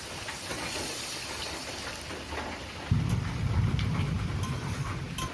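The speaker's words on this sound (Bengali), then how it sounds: "এখন পরিমাণ মতো জল দিয়ে দেব" Water poured onto hot fried masala for egg curry sets off a loud, dense sizzle and hiss that jumps in strength partway through, steady and close with no talking.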